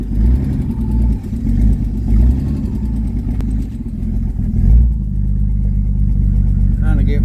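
A 1976 Ford F-150 engine with a lifter tick runs close by, a loud, steady low rumble that rises and dips slightly, with no clearly separate ticking.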